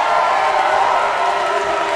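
A wrestling crowd cheers at an ECCW championship match between El Phantasmo and Pete Powers, a steady, loud, dense roar that holds at an even level for the whole moment.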